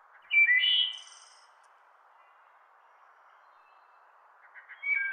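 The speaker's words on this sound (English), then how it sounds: "We stand to lose these wood thrushes and their beautiful song" Wood thrush song in a forest garden: a bright, fluting phrase rings out near the start, and a second burst of notes comes at the end over steady low background hiss.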